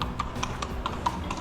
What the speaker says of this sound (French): Et il est à cheval.